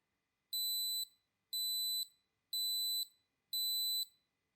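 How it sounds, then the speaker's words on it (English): A NOVOO smart tracker tag's 80-decibel alarm sounds four shrill electronic beeps in an even rhythm, each about half a second long with short gaps, piercing and alone against silence. "you can trigger an 80 decibel alarm to track it down if it's nearby"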